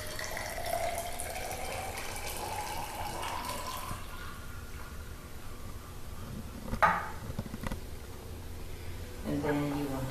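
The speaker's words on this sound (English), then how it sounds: "First, you want to pour the water first." Hot water pours into a cup for brewing loose green tea, a steady splashing stream near and moderately quiet that fades into brief trickles, with a voice talking over it.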